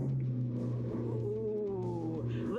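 Corvette sports car engine running at a steady low idle, a loud close rumble with faint pitch shifts and a brief rising rev at the end.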